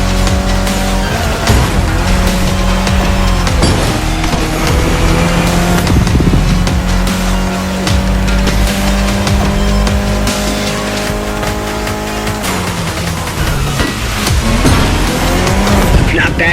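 Mitsubishi Lancer Evo X engine in The Crew Motorfest racing game, loud and continuous, holding steady revs with gear shifts and tire squeal through corners, close and alone with no talk.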